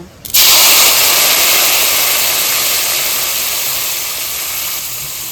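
Water poured into a hot pot of frying rice for a Bengali kanika bhog offering bursts into a loud, steady hiss that sets in abruptly and holds, slowly fading, with no talk.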